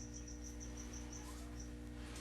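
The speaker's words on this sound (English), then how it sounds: "Can you guys all hear the crickets in the background?" Steady, faint cricket chirping in short repeated pulses, a thin high trill over a low constant hum, with no voices.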